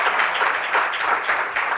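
Conference audience at a TV news technology forum giving a round of applause, dense, close and loud clapping sustained throughout.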